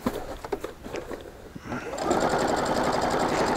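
Sewing machine stitching through a thick weighted blanket quilt, starting with a few short intermittent bursts and clicks, then settling into a steady, continuous rapid stitching drone at close range.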